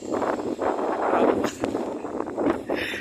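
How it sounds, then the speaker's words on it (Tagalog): Strong gusting wind roaring and buffeting the microphone continuously, rising and falling in intensity. "grabe ang lakas ng hangin"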